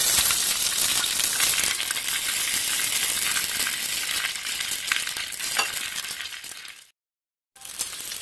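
Sausage sizzling and frying in hot oil in a pan, a steady dense crackle with occasional clinks of utensils, running loud and close before a brief cut of silence near the end.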